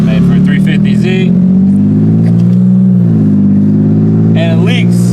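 An Infiniti G35X with a cut-and-modified Z1 Motorsports exhaust built for a 350Z, leaking on both sides, roars loudly and steadily with revving swells while a person talks over it.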